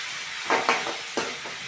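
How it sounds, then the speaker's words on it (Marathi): Chopped onion and ginger-garlic paste frying in hot oil with cumin for pav bhaji, a continuous close sizzle with a few distinct stirring scrapes in quick succession, no talk. "कांदा हलकासा ब्राऊन झाला की आलं लसूणची पेस्ट घालायची"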